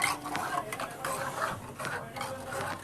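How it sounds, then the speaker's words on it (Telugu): A ladle stirs boiling milk in a hot clay pot, giving soft, repeated scraping and rubbing strokes at a steady pace close by, with faint background noise and no talking. "మనం పాలు మరుగుతున్నప్పుడు ఇలాగ గరిటెతో కలుపుకోవాలి ఒక స్పూన్తో"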